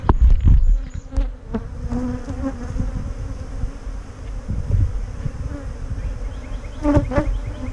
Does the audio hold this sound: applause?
no